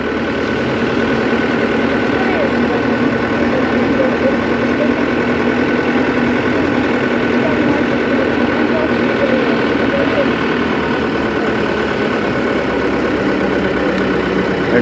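Crowded public bus on a route through Kerala roads, its engine droning steadily and loudly from inside the cabin with a constant low rumble and no pauses.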